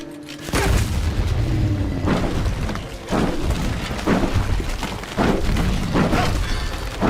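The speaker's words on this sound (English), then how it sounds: "Everything can be solved with a rocket launcher." Rocket launcher blasts in the video game Chernobylite 2 boom loudly one after another, heavy repeated explosions with shattering debris and rumble filling the whole stretch.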